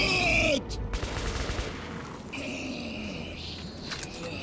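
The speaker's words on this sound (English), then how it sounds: "Shoot that job! I'm reloading, Miller! Shoot!" Gunfire from the video game Metro 2033 Redux comes as a loud burst of rapid shots at the start, followed by clattering and muffled game noise with voices.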